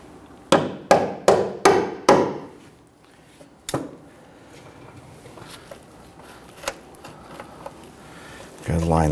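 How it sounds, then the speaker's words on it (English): Five quick hammer taps ring out close by while fitting a front brake hose on a 2011-2015 Kia Sorento, then one more after a pause, followed by quieter handling noises and a rising scrape at the end. "I'm going to grab a hammer to go ahead and tap that in."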